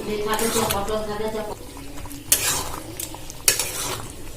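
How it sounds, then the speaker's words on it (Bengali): A spoon scrapes and stirs soybean curry with vegetables and a little ghee in a pan over a soft sizzle, with a few louder metallic knocks against the pan; a voice talks over the first part. "সবজি আছে দিয়ে ভালো করে এটা নাড়াচাড়া করে নেব"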